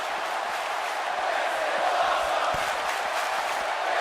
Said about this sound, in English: The crowd chanting, "This is awful,"